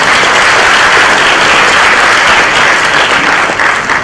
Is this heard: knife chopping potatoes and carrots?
no